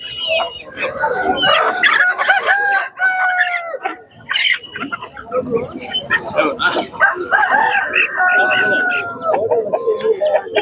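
Several roosters crow repeatedly and loudly, overlapping one another amid clucking hens and people talking at a busy, crowded poultry market in South India.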